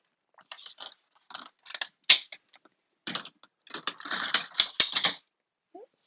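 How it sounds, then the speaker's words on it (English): A paper trimmer slicing a thin edge off a card base, with short crisp cutting and sliding bursts in a quiet room, close and fairly faint, ending with a small handling sound. "just going to put this in my trimmer."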